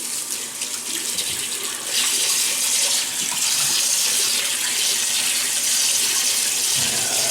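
Water runs steadily from a tap into a sink to wet a face before shaving, a loud continuous splashing hiss that swells slightly after the first couple of seconds and carries on alone.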